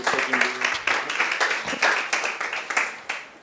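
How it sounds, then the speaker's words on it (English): Audience applause at a startup pitch competition, a crowd of hands clapping in a steady, moderately loud patter that rises and falls over a few seconds, with faint voices underneath. "Another applause for him, please."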